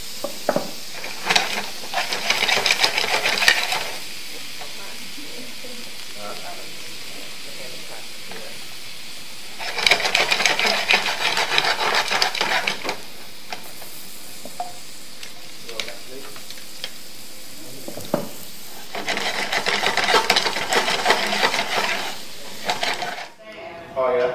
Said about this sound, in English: Saute that a little bit. Shake it, shake it.